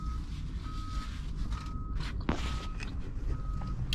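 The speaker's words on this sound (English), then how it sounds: "I'm sure you can hear that beep beep beep beep sound." Repeated reversing beeps from learner drivers' cars on a beach ring out in a steady on-off pattern, moderately distant, over a wash of wind and surf noise with a few brief knocks.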